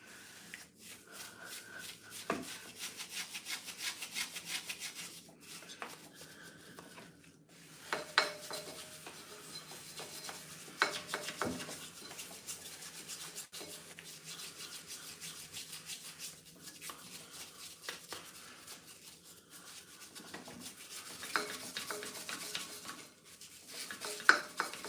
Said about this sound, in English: Now cleaning the gunk off all of this crap.